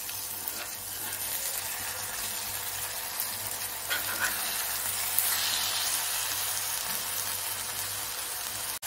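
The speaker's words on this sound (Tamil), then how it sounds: "நம்ம வந்து இந்த முட்டையை வந்து அப்படியே லேசாக அடி பிறக்கி விடணும். அந்த மசாலாவோடு அப்படியே பிறக்கி விடணும்." Eggs frying in a masala in a pan, Hyderabadi egg fry style, make a constant loud sizzle with occasional scraping from stirring, close up and without talk.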